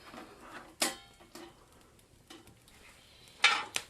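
Hot coals are scooped onto the lid of a mess kit skillet resting on a trivet, giving a few sharp metallic clanks and scrapes with quiet stretches between, close and without talk.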